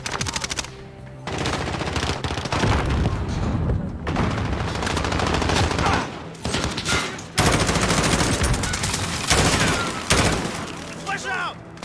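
Sustained covering gunfire in Modern Warfare, dense automatic bursts and rapid shots firing almost nonstop with short gaps, loud and close, with game voices mixed in.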